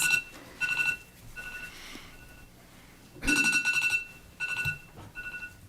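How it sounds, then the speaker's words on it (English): A speaking timer at a township committee meeting beeps in short repeated electronic bursts, going off several times in a quiet room. "I'm trying to control the timer, sorry."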